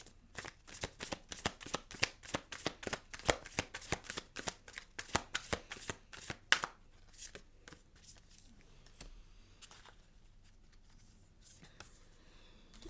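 A deck of tarot cards is shuffled in rapid riffles of crisp snapping flicks for about six seconds, followed by quieter card handling and slides, close and fairly soft with no talking.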